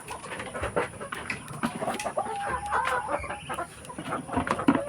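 Laying hens and breeder chickens cluck and squawk busily at feeding time on a farm, a dense, restless chorus of close and farther birds with constant overlapping calls.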